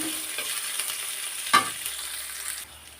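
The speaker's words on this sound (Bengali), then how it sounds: "কাঁচামরিচ আর পেঁয়াজটা একটু ভাজি ভাজি করে নিতে হবে" Chopped onion with red and green chilies fries briefly in a pan, a soft, fairly quiet sizzle with one sharp utensil clack midway before the hiss fades away.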